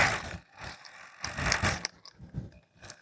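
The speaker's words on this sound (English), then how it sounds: "Make sure you tighten your chuck up nice and straight" A drill chuck is tightened onto a sanding attachment holding a 500-grit pad from a headlight restoration kit. Close, dry ratcheting clicks come in several short bursts with pauses between.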